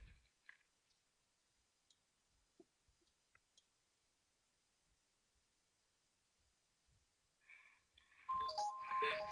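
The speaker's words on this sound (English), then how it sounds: "There's that. The chimes." After several seconds of near silence broken by faint clicks, a short run of bright electronic chimes rings out clearly in a trading software webinar.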